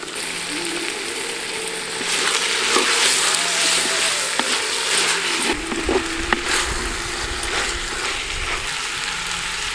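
Tomatoes added to onions frying in a clay pot for mutton biryani: a steady, close hiss and sizzle with scraping and stirring clatter, growing rougher and fuller about halfway through.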